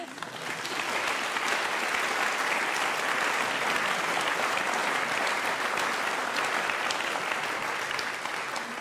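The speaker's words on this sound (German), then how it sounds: "da dürfen Sie gerne klatschen" Audience applause at a jazz evening, a dense and steady wash of clapping from a large crowd that starts abruptly and continues without pause.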